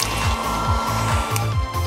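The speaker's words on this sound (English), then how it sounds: "get this hairdryer and melt these bad boys into chocolate perfection!" A hair dryer blows with a steady, loud whir and a rhythmic low pulsing throughout, with no voices.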